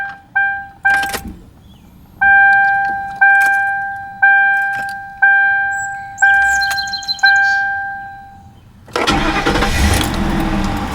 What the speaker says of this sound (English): What you are hearing is Ford's modular V8.